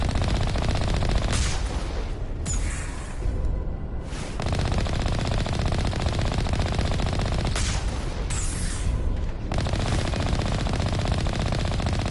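Rapid automatic gunfire in the video game Mass Effect Legendary Edition, long dense bursts of shots broken by short pauses, loud and harsh throughout.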